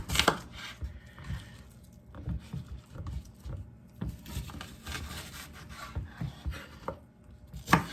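A knife slices vegetables into thin strips on a cutting board for a cheese tortellini peperonata, giving a steady run of soft, close chopping taps and board scrapes at a quick uneven rhythm, with no talking.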